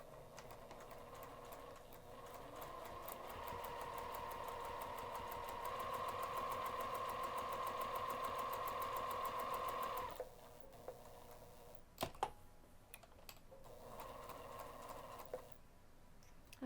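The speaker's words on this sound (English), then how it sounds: "I'm going to take this over to the sewing machine and stitch directly on top of the lines that I drew to form a rectangular box" A sewing machine stitches a rectangular box for a bag's zipper pocket at a 2 mm stitch length, whirring steadily at rapid speed, then stopping with a few clicks before running again more briefly.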